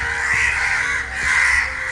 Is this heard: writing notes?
no